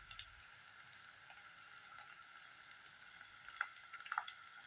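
Garlic and ginger frying in a pan for a Kerala-style saaru, a steady soft sizzle running throughout with a few sharper pops near the end.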